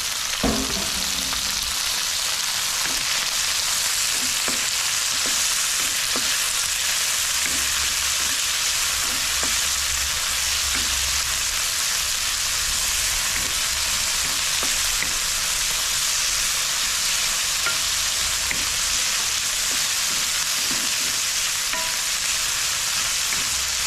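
Tomatoes sautéing in a hot pan for sotanghon guisado give a loud, dense, unbroken sizzle close by, with faint stirring clicks underneath, lasting without pause and without any voices.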